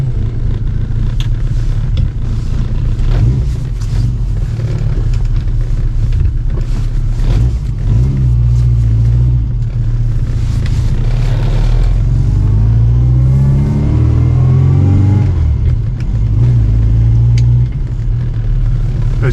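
A classic Mini, freshly restored after two years, drives off with a loud, close, continuous engine rumble that rises and falls in pitch as it accelerates through the gears.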